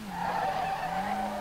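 Tires squeal in a sustained skid from a car driven without suspension springs in the Street Legal Racing Redline driving game, a loud tonal screech with a low engine hum beneath it.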